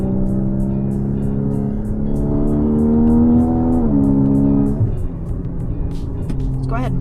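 A 2016 Porsche Boxster GTS with a 7-speed PDK transmission accelerates while driving, its engine tone climbing steadily before a gearshift drops the pitch, heard from inside the car and loud.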